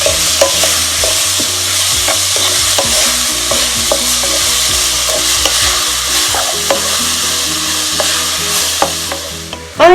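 Curry leaves with half a teaspoon of salt sauté on a medium flame for a tuna fish masala, a close, steady sizzle broken by frequent scraping stirs of the spoon, with nobody talking.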